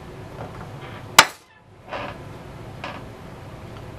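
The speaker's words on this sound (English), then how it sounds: "I'm going to line it up with the point, and I'm going to take a hammer" A hammer strikes once, sharply and close, marking a star point on a soft wooden goban board. Two fainter, softer taps follow in a quiet room with no talking.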